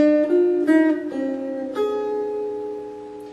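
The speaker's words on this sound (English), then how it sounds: "if I were to play that on the guitar, it would sound like this" Jazz guitar playing a melody, a few sustained single notes and chord tones ringing close and clear, each struck note followed by a long smooth decay.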